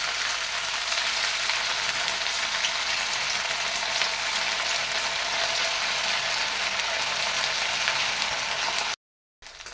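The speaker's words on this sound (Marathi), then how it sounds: "आता या स्टीक तेलामध्ये घालून घ्यायचं" Semolina sticks frying in a pan of very hot oil, giving a steady, dense broadband crackle and hiss that stays loud and even throughout before cutting out abruptly near the end.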